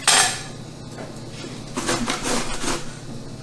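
Zucchini being shredded up in a kitchen: a brief clatter at the start, then several quick rasping strokes in a short burst, close and fairly loud, with no talking.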